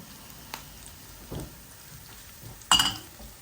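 Chicken sizzles in a pan with softened onion and browned garlic for a chicken curry, a soft continuous fry broken by a few scraping stirs and one louder sizzling burst, close and alone.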